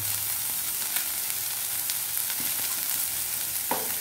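Turmeric powder and asafoetida fry in hot oil for a masala dosa filling, a steady close sizzle with a few scrapes of stirring, with no voices.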